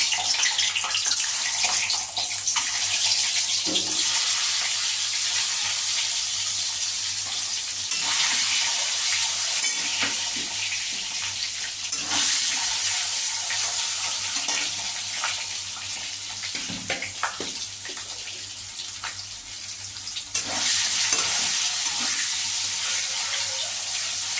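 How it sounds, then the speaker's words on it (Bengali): Hard-boiled eggs frying in hot oil in a pan, a constant sizzling hiss with scattered pops and crackles running steadily for the whole stretch, no talk. "তেল গরম হলে আমি ডিমগুলো ভেজে তুলে নেব এবার আমি সেদ্ধ ডিমগুলো ছেড়ে দেবো"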